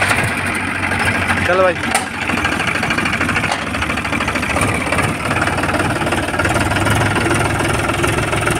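A tractor engine runs at a steady idle with a loud, constant mechanical drone and a brief rising whine near the start, while someone talks over it outdoors.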